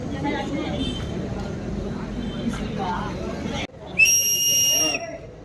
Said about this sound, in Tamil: விசில் கொடுக்குறாரு ஒரு படகுலேயே